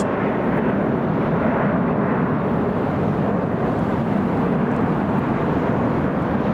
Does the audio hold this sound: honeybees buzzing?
no